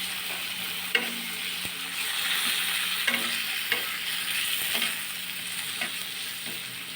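Spice paste with coriander and cumin powder stir-fried in a pan, with a steady sizzle and repeated clicking scrapes of a spatula at a near, even pace, no voices.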